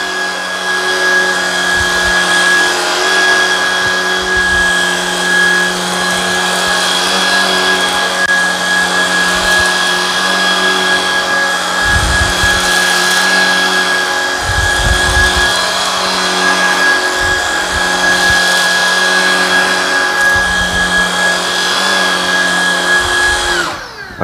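A Shark Vertex cordless vacuum cleaner drones steadily at close range for the whole stretch while running over carpet, its motor whine constant with faint rhythmic bumps of the head being pushed back and forth.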